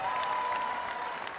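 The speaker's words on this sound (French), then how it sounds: "On applaudit pour vous-même là-bas." A comedy show audience gives brief, even applause, a short wash of many hands clapping at a distance with a faint steady tone behind.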